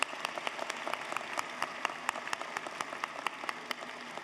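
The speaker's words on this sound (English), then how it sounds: "Let's give them a round of applause." Faint, scattered clapping rises from the audience at the UA Little Rock 2019 Fall Commencement, a thin, steady patter of hands heard from a distance.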